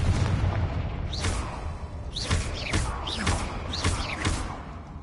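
The Confringo explosive spell is cast repeatedly in Hogwarts Legacy, each cast a whooshing sweep ending in a sharp blast, about one per second over steady rumbling.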